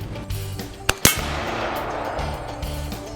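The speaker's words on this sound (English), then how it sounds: "So to see if I could be a little bit more aggressive, I used an AR-15." An AR-15 rifle fires at a rust-coated disc, giving two sharp cracks about a tenth of a second apart over steady background noise with a low hum.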